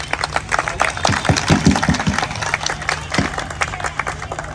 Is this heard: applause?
yes